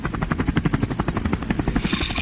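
Helicopter rotor chopping in a steady rapid rhythm of loud, close blade thumps, fading slightly at the end as a brighter hiss takes over.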